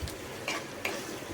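Tempering spices sizzling in hot oil as a wooden spatula stirs them, a constant frying hiss broken by two or three sharp scraping strokes.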